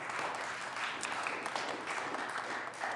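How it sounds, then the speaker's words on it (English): Applause fills the Colorado Senate chamber during a legislative session as a roomful of people clap in a continuous, fairly faint wash of hand claps. "Give them a round of applause."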